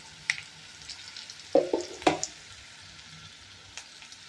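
Garlic crackling in hot oil for a lemon pickle: a steady soft sizzle with a few sharp pops and clusters of crackles near the start, then a quieter hiss with occasional faint pops.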